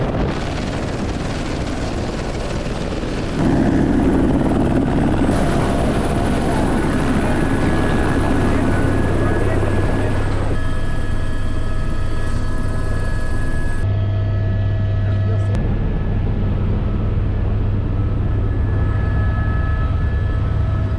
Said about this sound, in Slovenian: Helikopter slišimo?